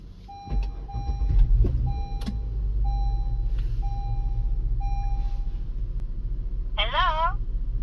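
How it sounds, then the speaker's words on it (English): A car engine cranks and catches with a low rumble, then settles into a steady idle under a string of repeated electronic beeps and a brief warbling chime from a dash-mounted driving-assistant device. "Now let's go ahead and start up the vehicle."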